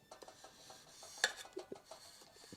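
A knife cuts into a piece of dark chocolate, giving a few faint taps and scrapes around one sharp, bright click, with no voices.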